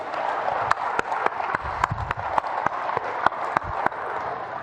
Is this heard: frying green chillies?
no